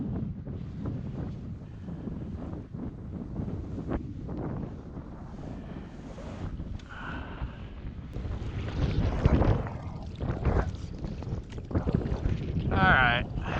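Strong wind buffets the microphone beside a lake, a steady rumbling roar with louder gusts, while a drone or small motor hums faintly and voices come through in places.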